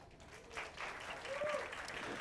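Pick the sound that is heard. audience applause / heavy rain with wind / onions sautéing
audience applause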